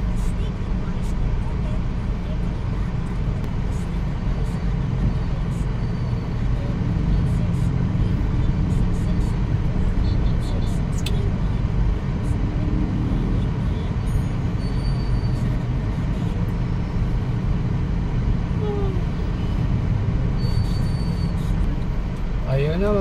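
Road traffic rumbles steadily as a car drives through city streets between Marikina City and Antipolo City, with continuous engine and tyre noise, occasional brake hiss and faint voices now and then.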